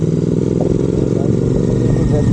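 A Royal Enfield GT650 motorcycle engine idling steadily, with a deep, continuous, loud throb and slight mechanical clatter, close to the microphone with no break across the clip.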